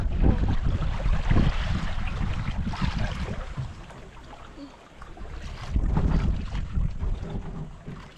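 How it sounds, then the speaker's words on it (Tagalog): Strong wind buffets the microphone in heavy gusts, roaring low, easing in the middle and surging again, with a sense of open water around. "lakas ng hangin"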